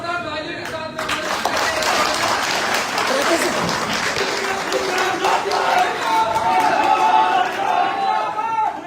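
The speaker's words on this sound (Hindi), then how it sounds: "जोरदार तालियों के साथ" Loud, sustained audience applause at a ceremony installing a municipal council chairman, dense clapping mixed with crowd chatter and scattered shouts throughout.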